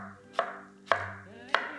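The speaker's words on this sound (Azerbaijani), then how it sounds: "Şorbanın kartofunu da öncədən doğrayaq. Belə orta kub şəklində." A knife cuts potatoes into medium cubes on a cutting board, three sharp, separate chops spaced about half a second apart, close and clear with nothing else heard.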